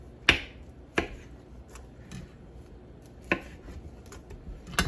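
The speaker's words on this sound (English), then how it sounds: "All your peppers, you can just chop off the end of the little stem." A knife chops the stem ends off green peppers on a cutting board while salsa verde is prepared, giving four or five sharp, separate knocks spaced about a second apart in a quiet kitchen.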